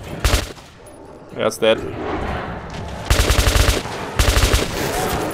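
Bursts of rapid automatic gunfire from the post-apocalyptic shooter Metro 2033 Redux, loud and close, in two long volleys with a short sharp shot between, while a player talks over it.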